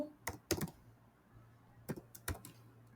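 Keystrokes on a computer keyboard while writing C code, a few clustered clicks near the start, then a pause, then another short burst of taps, close and fairly quiet.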